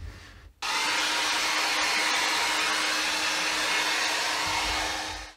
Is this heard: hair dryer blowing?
yes